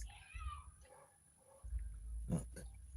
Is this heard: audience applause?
no